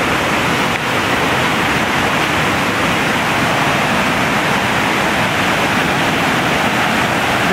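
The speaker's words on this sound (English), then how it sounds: "There's the water coming over Fulmerville Road." Floodwater from a tropical storm rushes over a road in a steady, loud, broadband roar, close and continuous with no pauses.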